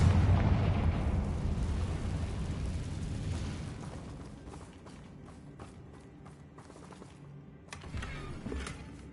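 A Confringo blasting spell explodes in Hogwarts Legacy, a loud, deep rumbling blast at the start that slowly decays into crackling debris and scattered bursts, with a lesser boom near the end.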